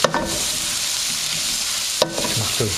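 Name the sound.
cubed paneer stirred into sizzling spiced pan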